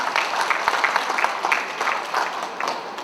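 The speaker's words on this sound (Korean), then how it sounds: "응원의 큰 박수가 좀 필요할 것 같습니다" Steady audience applause at an art fair opening ceremony in Gwangju, dense, continuous clapping from a crowd sustained for the full few seconds without a break.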